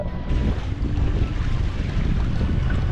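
Strong wind buffets a sailboat under way as water spray and waves rush steadily against the hull, a loud, continuous roar with heavy low rumble throughout.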